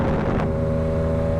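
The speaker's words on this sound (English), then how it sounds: "this bike got a new exhaust, man. This bike sounds crazy." Triumph Daytona 765 motorcycle with a new aftermarket exhaust, riding along at a steady, loud engine drone with strong low harmonics, a brief rise near the start and rushing wind noise throughout.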